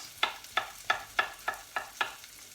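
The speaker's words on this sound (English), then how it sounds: "So onions are cooking well" Onions and garlic cooking in a pan for courgette soup, heard as seven evenly spaced scraping stirs over a faint sizzle, close and moderately quiet.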